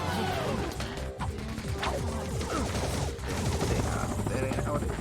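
Rapid gunfire and crashing explosions from the 2002 Ratchet and Clank video game, dense and continuous, layered with game music and effects throughout, with people talking faintly underneath.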